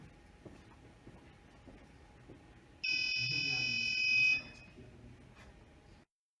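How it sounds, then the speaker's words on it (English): A single harsh electronic buzzer on a crowd-counting device, signaling that a room has reached full capacity, sounds loudly for about a second and a half, standing out over quiet indoor background noise. "buzzer will beep because the place will reach defined capacity"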